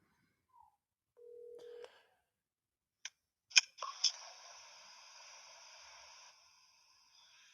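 A call-in phone line on a live show dials out: a short low tone and a few sharp clicks, then a bright, steady electronic ringing tone that holds for a couple of seconds before fading. No talking.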